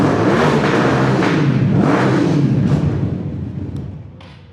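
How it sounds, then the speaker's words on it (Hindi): A 2025 Jonway 400cc V-twin motorcycle with dual exhaust revs loudly up close, its throaty engine note rising and falling before fading away toward the end. "डुअल एग्जॉस्ट है, वी ट्विन इंजन के साथ आ रहा है ये, ठीक है, 400 सीसी है।"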